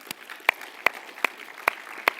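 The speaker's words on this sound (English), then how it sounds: "give yourselves a round of applause" About six sharp, evenly spaced claps ring out in a quiet budgeting classroom, thin and sparse rather than full crowd applause.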